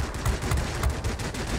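Aircraft machine guns fire in rapid bursts during a World of Warplanes dogfight, a dense, loud, continuous rattle of gunfire with no talk over it.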